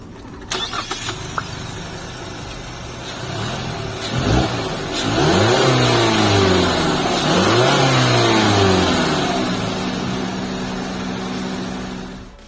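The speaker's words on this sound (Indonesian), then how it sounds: "bicara soal berpacu mesin dari si Mazda CX-5 ini naturally aspirated, jadi nggak ada turbo lag kayak lawannya" A Mazda CX-5 with a naturally aspirated 2.5L Skyactiv-G engine cranks and starts, then revs up and down several times in rising and falling sweeps before settling to a steady idle, recorded close and loud.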